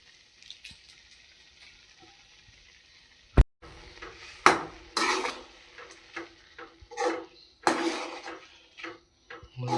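Hippy instant noodles get stirred in a pan with irregular scrapes and clacks against the metal, close by, separated by quiet gaps and a sharp knock.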